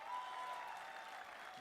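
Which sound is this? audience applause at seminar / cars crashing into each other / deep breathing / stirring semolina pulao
audience applause at seminar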